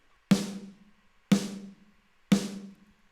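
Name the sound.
unprocessed digital snare drum sample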